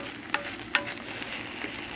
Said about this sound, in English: turn off my hot plate and finish the little frying procedure